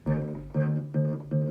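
Four plucked guitar string notes sound one after another, each ringing briefly and decaying before the next, close up and clear with no voices.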